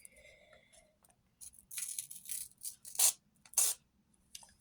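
A paper surprise packet being torn open up close: bursts of crisp rustling, ripping and crinkling of paper, loud and uneven, with a few quieter handling sounds before and after.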